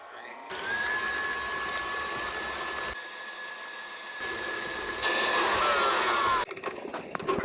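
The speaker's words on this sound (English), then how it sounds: "Now I'm going to blend this at pretty high speed for about 5 minutes." A blender runs at high speed whipping egg yolks and sugar for a Portuguese sponge cake, giving a steady high-pitched motor whine that holds for several seconds with small shifts in tone and a brief clatter at the end.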